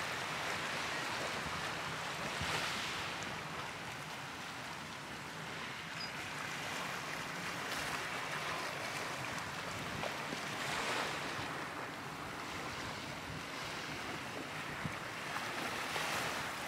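Waves wash steadily onto the north beach of Maafushi island in the Maldives, a continuous loud surf roar with gusting wind buffeting the microphone and no voices.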